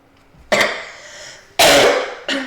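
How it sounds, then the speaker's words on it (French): A slightly ill man coughs three times in sharp, loud bursts close to the microphone while playing Star Wars Battlefront 2, with short pauses between the coughs. "Excusez-moi pour ma toux, je suis un peu malade."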